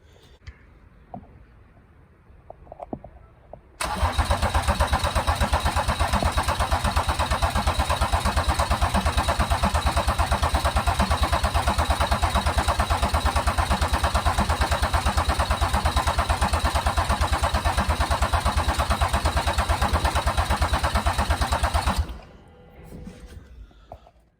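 BMW 330d with the N57 diesel engine cranking over after timing chain work, a loud, steady mechanical churning that runs continuously for about eighteen seconds without catching, then cuts off, with quiet workshop sounds before and after.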